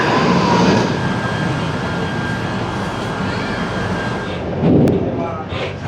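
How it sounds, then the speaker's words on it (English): A train pulls into Putra station in Kuala Lumpur, a loud, steady rumble with broadband hiss that swells briefly near the end, with faint crowd murmur in the background. "Train is here."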